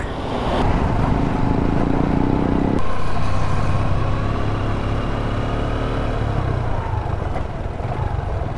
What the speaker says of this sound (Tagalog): So maraming dump truck.